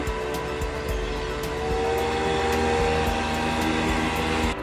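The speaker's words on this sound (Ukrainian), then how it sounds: "гідроцикл" A jet ski engine drones loudly and steadily, a buzzing, even motor hum that holds its pitch throughout.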